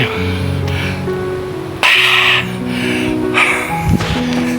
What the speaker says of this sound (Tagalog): tingnan nyo katropa kung gaano kalakas ang hingal ko dyan